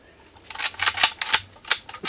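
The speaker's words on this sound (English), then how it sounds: "Oguazu, shoot this man!" Sharp cracking gunshot sound effects from a Nollywood comedy film, several quick bangs in an irregular burst, loud and close, with no voices.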